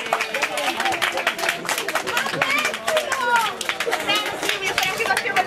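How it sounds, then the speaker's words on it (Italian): Audience applause at a summer 2011 cosplay contest, a dense, steady patter of many hands clapping throughout, mixed with crowd chatter and excited voices close by. "Un applauso!"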